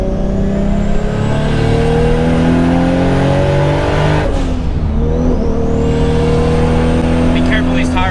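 Toyota Supra engine droning steadily from inside the car while driving, rising and falling with throttle and a shift midway, under ongoing conversation from occupants.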